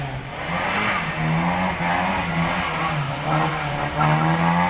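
A car engine revs hard and steadily during a stunt driving show, holding high revs over a continuous roar with slight rises and dips in pitch.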